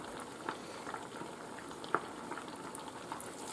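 Soft, steady bubbling and sizzling of Italian rice balls (arancini) frying in oil, with a few small pops and crackles.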